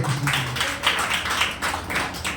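A church congregation claps during Sunday worship at Lord's Temple in Kanchikacherla. The claps come as quick, steady bursts of several hands together, fairly close and clear, with a brief low tone near the start.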